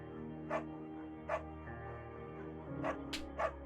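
A dog barks in the Firewatch video game, with a handful of short, faint barks spaced irregularly over a steady low background hum.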